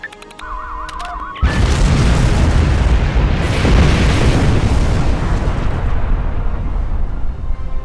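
A loud, close explosion in the video game Star Trek Online erupts after brief tonal game sounds, then a dense roaring rumble sustains for several seconds without talk.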